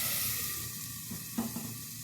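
Pumpkin pieces fry in a pan with a steady close hiss and sizzle, a couple of soft stirring scrapes briefly rising through it, with no voices.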